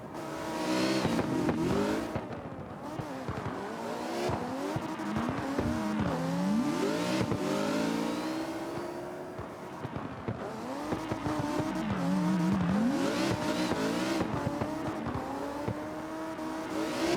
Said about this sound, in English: That right there is freestyle tandem drifting.